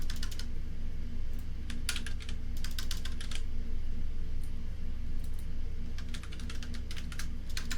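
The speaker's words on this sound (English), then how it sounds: "Keyboard noises, I think." A computer keyboard clatters in quick bursts of typing separated by short pauses, close and clear over a low steady hum, with no talking.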